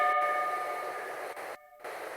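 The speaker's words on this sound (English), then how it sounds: "The train is arriving at the station." A train arrives at a station in the Sherlock Holmes Crimes and Punishments video game: a steady rolling rumble under sustained tonal hum, with a brief drop-out near the end before the rumble resumes.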